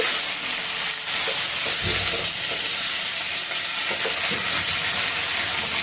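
Spice stuffing for Kashmiri potato dum is stirred and mixed in a hot pan, a loud, dense sizzling hiss layered with irregular scraping and tapping of the spoon throughout.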